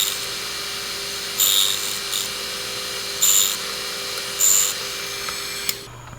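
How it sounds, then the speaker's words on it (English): A file rasps against a key blank while impressioning a Master Lock no. 40 round storage locker lock, with three short bursts of bright scraping strokes over a steady hum, then a faint click near the end. "if you're filing, if you don't have calipers to measure with, you just want to kind of file the mark off"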